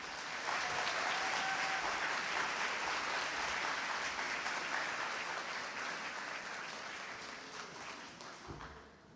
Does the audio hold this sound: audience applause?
yes